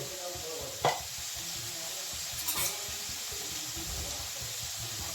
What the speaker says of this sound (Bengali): আমি তেলের মধ্যে আলুটাকে ভেজে নিলাম।